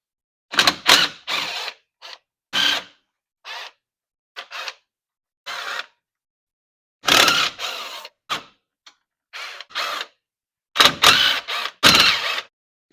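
Bolts on the rear Dana 35 differential cover of a Jeep being backed out with a socket ratchet, heard as a series of short close bursts of clicking and metallic rasping separated by quiet gaps.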